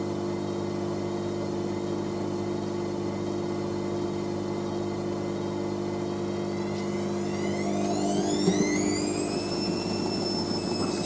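A Hotpoint HY6F1551P washing machine drum turns at 300 RPM with a steady mechanical hum, and a rising whine builds over the last few seconds as the spin picks up.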